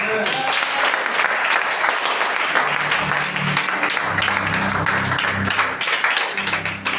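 A church congregation applauding and cheering in praise of the Lord, a loud, continuous wash of clapping with voices calling out beneath it.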